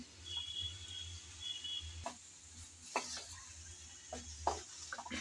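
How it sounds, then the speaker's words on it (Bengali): Vegetables being stirred and sautéed in a pan: a soft steady sizzle with sharp clinks of a utensil scraping and tapping the pan at irregular intervals, close and fairly quiet. "আমি নেড়ে চেড়ে একটু কষিয়ে নিয়েছি।"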